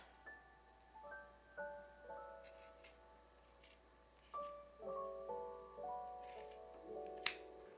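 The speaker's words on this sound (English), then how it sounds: "So I will cut about here." Scissors snip macrame cord with a series of quiet, close crisp cuts and small metallic clicks, spaced irregularly over a near-silent background.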